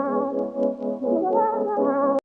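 A synth horn line played with a hollow brass preset runs through a short melodic phrase, a close, steady sustained tone that cuts off abruptly at the end, with no talking.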